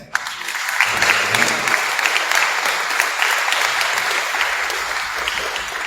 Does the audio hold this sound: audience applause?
yes